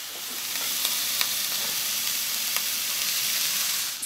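Diced, partly steamed potatoes frying in a pan with browning onions and a little chorizo, a continuous close sizzle with a few faint scattered pops and stirring scrapes.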